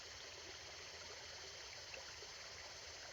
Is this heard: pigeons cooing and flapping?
no